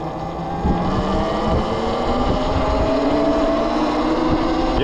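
A Talaria Sting electric motorbike cruises along a mountain road, its steady motor whine rising and falling in pitch over constant rushing wind noise, close and loud.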